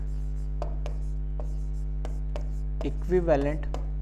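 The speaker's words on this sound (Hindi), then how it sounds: "यहाँ पे लिख रहा हूँ मैं" Marker or chalk strokes on a classroom board during a chemistry lesson on Faraday's laws of electrolysis, a series of short scratchy taps and squeaks over a steady low hum, with a brief voiced sound near the end.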